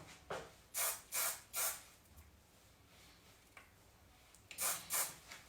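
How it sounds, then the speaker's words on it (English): Session hairspray hisses from a can onto a woman's fringe in quick bursts: one short puff, then three close blasts, a pause with a faint tap, and two or three more sprays at the end, close and soft. "use a bit of session spray."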